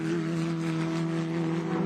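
FR Americas open-wheel race car on worn tires at Canadian Tire Motorsport Park, engine holding a steady high droning tone, loud and continuous with no talk.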